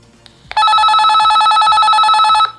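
A T-388 walkie-talkie sounds its call ring, a loud electronic warbling tone that begins abruptly after a faint click and holds steady for about two seconds before cutting off.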